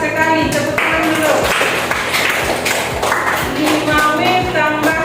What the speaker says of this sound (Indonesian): Tepat sekali, tepuk tangan dulu.